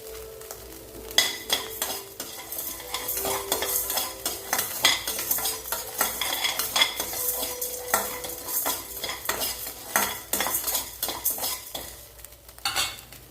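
Rock salt roasting and being stirred in a dry kadai, with steady scraping and light crackling at close range, scattered metallic utensil clinks against the pan, no talking.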